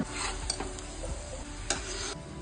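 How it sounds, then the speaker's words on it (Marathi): Shankarpali sweets deep-fry in hot oil over a medium flame, giving a steady, close sizzle with a few sharp crackles and light clicks throughout, and no voices. "लालसर रंगावर येईपर्यंत तळायचं मीडियम फ्लेम वर तळायच्या"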